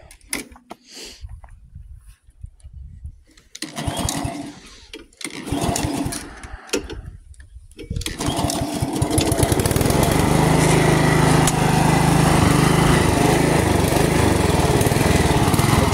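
A lawn mower engine runs while the mower is jacked all the way up, with a slight stumble blamed on the intake manifold gasket. Quieter uneven bursts give way to a loud, steady, close-up drone that holds to the end.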